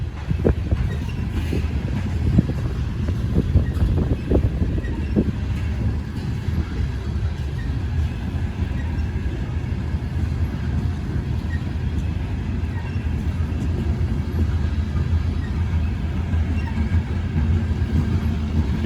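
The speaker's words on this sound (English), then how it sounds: "I can hear another locomotive." Locomotive hauling a loaded grain train up a hill, a steady low rumble and engine drone running throughout with a few sharper knocks near the start, continuous and moderately loud.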